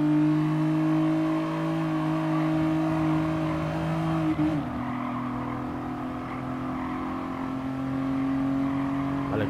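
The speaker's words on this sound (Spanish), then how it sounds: "La ha derrapado un poco el coche Arnau." Race car in Gran Turismo Sport sliding as it loses grip mid-race, steady engine drone with a brief tire-scrub disturbance partway through before the engine note settles back to a continuous whine.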